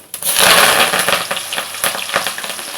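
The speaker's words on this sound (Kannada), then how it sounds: "ಈ ಒಗ್ಗರಣೆ ಹಾಕುವಾಗ ಎಣ್ಣೆ ಚೆನ್ನಾಗಿ ಕಾದಿರಬೇಕು" Cumin, crushed garlic and curry leaves are tossed into hot oil for tempering a tomato gojju. The result is a loud, steady sizzle with crackling pops that fades slightly as it continues.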